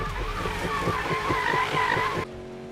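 A Toyota Supra drifts in the Need for Speed 2015 racing game, its tires skidding in a loud, wavering squeal over engine roar that cuts off abruptly near the end.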